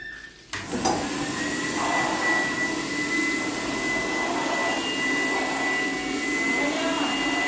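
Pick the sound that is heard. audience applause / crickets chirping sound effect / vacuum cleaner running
vacuum cleaner running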